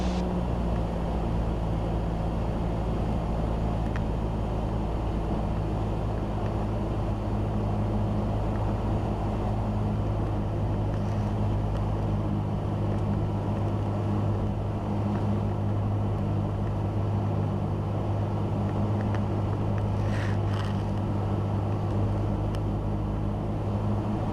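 Cessna light airplane engine droning steadily inside the cockpit during a touch and go landing, a loud constant hum with a slight dip and change in tone as power is reduced.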